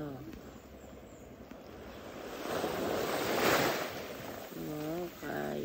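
Sea waves roll onto the shore at sunrise on Samal island, a broad wash of surf that swells and fades with wind noise, while a voice speaks softly toward the end.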